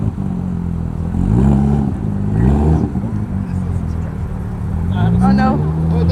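A car engine revs in repeated rising bursts, loud and close, with a rough, throaty exhaust tone throughout.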